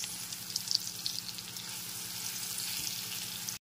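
Winter radish pieces fry in oil with turmeric for a red lentil dal, a steady close sizzle with a few light stirring clicks before cutting off abruptly.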